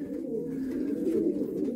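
Pigeons coo in a low, steady, throaty murmur close by, continuous and unbroken for a moment.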